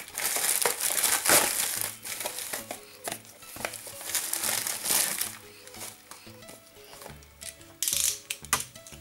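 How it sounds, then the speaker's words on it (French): Plastic package wrapping crinkles and crackles loudly as a parcel holding puzzle cubes is opened by hand, in irregular bursts of rustling with short pauses between, close up and without talk. "Alors on va ouvrir le paquet et je vais donner mes impressions."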